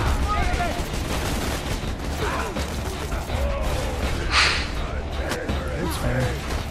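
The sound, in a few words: gunfire in video game Borderlands 2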